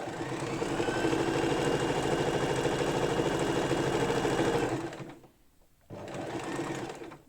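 A sewing machine stitches bag lining fabric with a fast, steady mechanical whir close by, stops for about a second, then resumes stitching.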